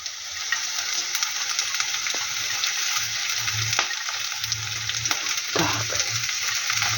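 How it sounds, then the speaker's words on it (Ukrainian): Onion sautéing in a pan for an egg and purslane dish, with a steady hissing sizzle close by, occasional clicks and soft scrapes of stirring, and a low rumbling hum beneath. "трошки припасірувалося цибуля і додаю"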